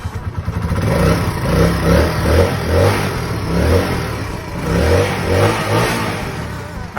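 A Honda Sonic motorcycle engine is revved repeatedly in a throttle test, loud and close, rising and falling in steady pulses over a rough idle with no talking.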